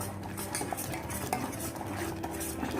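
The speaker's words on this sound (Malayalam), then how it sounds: "ശ്രദ്ധിച്ച് ഇളക്കിക്കൊണ്ടിരിക്കണം." A thickening ragi drink is stirred in a pan, with a utensil scraping and knocking against the metal continuously close by over a soft simmer, and no talking.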